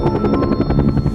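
A cartoon helicopter lifts off with loud, fast, evenly pulsing rotor chops over a steady engine whine, close and continuous throughout.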